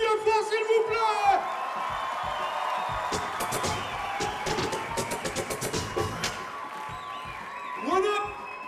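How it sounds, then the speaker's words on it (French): Cheering, whoops and applause from the crowd at a 3 vs 3 breakdance final, heard under a loud host voice on the microphone, with the crowd noise swelling in bursts and fading. "Applaudissez-vous bien fort, s'il vous plaît."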